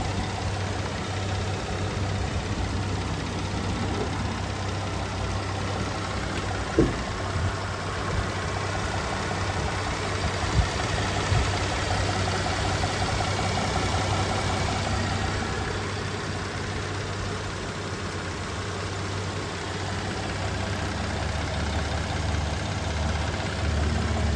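A Kia Sedona's 3.3 liter V6 idles smoothly and steadily throughout, a constant low engine hum with no revving, heard close and alone.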